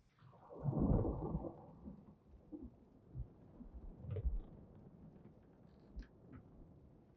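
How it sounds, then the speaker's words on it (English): Night thunderstorm with a deep rumble of thunder swelling early and trailing off, then scattered lower rolls and crackles over steady rain noise, fairly close. "Thunderstorm as well. Rainy night."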